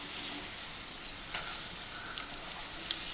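Banana fritters (pazham pori) fry in hot oil with a steady, even sizzle and faint scattered pops throughout.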